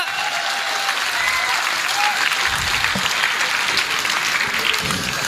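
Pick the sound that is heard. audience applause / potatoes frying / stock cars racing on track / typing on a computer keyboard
audience applause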